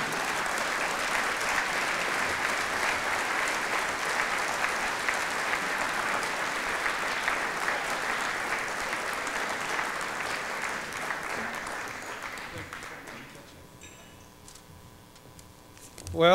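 An audience applauds steadily to welcome football coach Mike Leach at a 2012 Tri-Citian of the Year event, a dense sustained clapping that fades out near the end.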